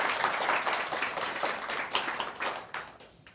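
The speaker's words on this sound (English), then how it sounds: "Let's give a round of applause" Audience applause at a VIP corner event with a U.S. diplomat, a steady wash of many hands clapping that fades gradually toward the end, with no voices over it.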